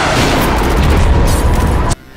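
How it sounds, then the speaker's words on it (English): Deep, sustained booming rumble of an explosion in a drama film trailer, loud and broadband, rolling for about two seconds before cutting off abruptly into quiet. "far in the distance, there was this explosion."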